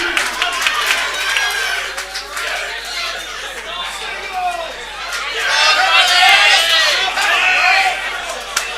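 Loud crowd at a men's teams pool final between South Australia and Western Australia, a thick babble of chatter and cheering that swells and holds throughout, with voices overlapping close by.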